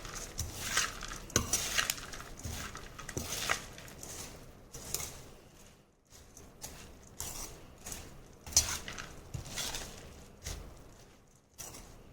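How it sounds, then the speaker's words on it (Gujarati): A spoon stirs and mixes tempered moth bean bhel topped with fresh coriander, scraping and clinking against the bowl in an irregular rhythm. It is close and moderately quiet, with no talk. "હવે આપણે તેને મિક્સ કરીએ."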